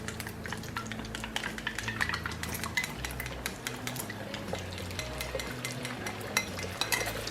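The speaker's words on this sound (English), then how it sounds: "Love the way the eggs cook in the bacon fat." Beaten eggs frying in bacon fat in a Weber wok on a barbecue, a steady sizzle under busy scraping and clinking of a metal utensil stirring against the pan, close up with no voices.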